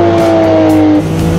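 Porsche Group C race car engine from the 1980s, loud and close, holding a steady droning note that drops in pitch partway through as it downshifts.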